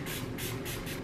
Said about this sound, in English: I just spray this onto a little like cotton round